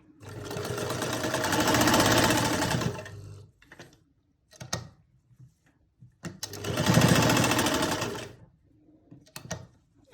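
Sewing machine stitching a garment armhole, two steady runs of whirring stitching of about three seconds each, separated by quieter handling clicks and fabric shuffling, close up with no talk.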